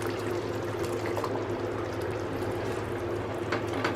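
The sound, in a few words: pouring half a cup of hot milk into gravy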